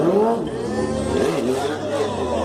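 A vehicle engine revs at a motor stunt show in Jequié, a loud, steady drone with a rising and falling pitch as it accelerates, partly under an announcer's voice over a loudspeaker.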